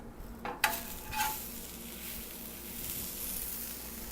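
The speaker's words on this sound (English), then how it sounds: "we're going to add a slice of onion just for a real quick saute." A slice of onion sizzles in a black iron pan after a brief clatter, settling into a soft, steady frying hiss close by.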